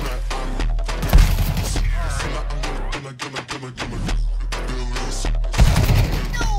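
Rapid bursts of gunfire from Counter-Strike 2 crackle through a dense in-game firefight, with heavier clusters of shots near the start and end, loud and close, while players talk underneath.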